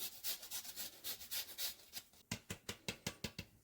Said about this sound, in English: I'm gonna zest some lemon.